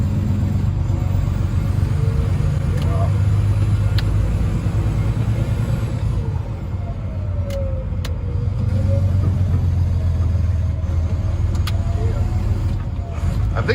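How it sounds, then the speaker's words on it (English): Western Star big rig truck with its jake brake engaged, a loud low diesel rumble that pulses and drones steadily from close by, with voices talking over it. "Jake brake."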